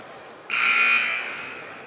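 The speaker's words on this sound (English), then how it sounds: "And there's the buzzer for 1 minute." A single loud, sustained electronic timer buzzer sounds for about a second and a half at a high school basketball doubleheader, cutting through faint gym ambience before trailing off.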